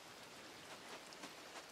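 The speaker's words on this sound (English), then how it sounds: "It's raining." Steady in-game rain in the farming game Coral Island, a soft continuous hiss with scattered patter, quiet and alone with no speech.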